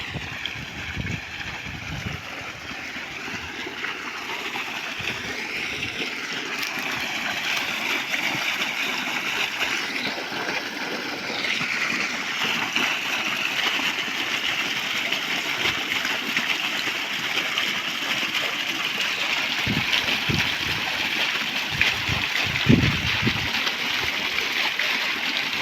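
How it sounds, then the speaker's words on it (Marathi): Irrigation water runs into a sugarcane field as a continuous, broad rushing and gurgling flow, close and steady, with a few faint splashes and knocks. "उसाला पाणी चालू."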